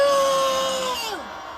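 A crowd at an anti-impeachment rally outside the Corruption Investigation Office lets out a loud, sustained collective shout that holds steady and then tapers and drops away near the end.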